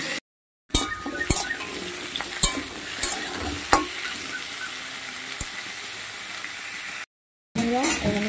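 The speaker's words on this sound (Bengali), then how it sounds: "কুমড়োটা আমি লম্বা লম্বা করে কেটে নিয়েছিলাম, এটা হালকা করে ভেজে নেবো" Long strips of cut pumpkin fry lightly in a pan with a steady close sizzle, broken by a few sharp clinks and scrapes of stirring, with two brief moments of silence.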